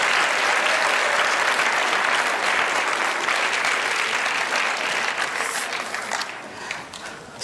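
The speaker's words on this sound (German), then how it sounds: "On peut applaudir la cuisinière." Audience applauding the cook at a gathering, loud sustained clapping filling the room, gradually thinning out near the end with a few scattered claps.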